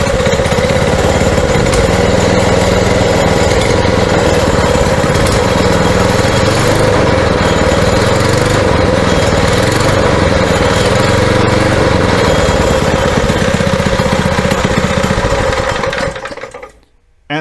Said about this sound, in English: that is the first time I tried starting this engine and it started on the first pull